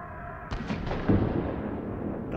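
Explosion in the underwater survival game Subnautica: a sudden broadband burst about half a second in, followed by a rolling, rumbling tail that stays fairly loud and muffled until the end.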